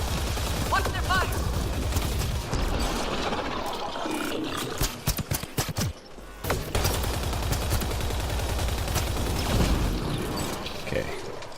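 Enemy gunfire in the sci-fi shooter Mass Effect Andromeda during a Strike Force co-op mission, a rush of rapid shots and crackling bursts under a dense roar of combat noise, with someone talking over it.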